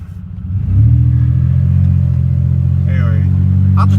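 A car fitted with a junkyard transmission revs up loud and close as it pulls away in first gear, the engine note climbing and then holding a steady rumbling drone, with a brief high squeal near the end.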